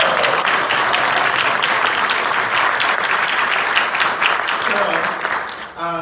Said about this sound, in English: Let's give a hand clap for that.